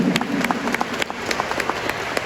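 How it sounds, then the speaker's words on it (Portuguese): Church congregation applauding together, a dense steady patter of clapping hands with sharp individual claps standing out, moderately loud and continuous throughout with no speech over it. "Aplauda a sua querida mãe."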